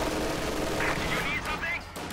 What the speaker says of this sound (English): He even actually managed to perfectly position it between the 2 riflemen, so that both machine guns will be firing